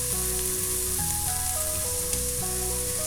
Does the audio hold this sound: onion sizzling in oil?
yes